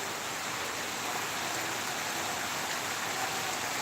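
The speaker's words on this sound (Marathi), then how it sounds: "अर्ध्या तासापासून संततधार पाऊस पडत आहे" Steady, continuous rain falling in the Bijwadi area, a constant even hiss that fills the whole stretch without a break and without voices.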